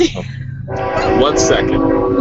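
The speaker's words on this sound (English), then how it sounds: "That was a train." A passing train sounds its horn loudly and close over continuous rumble and rolling rail noise, following a brief quieter opening, while a person speaks briefly.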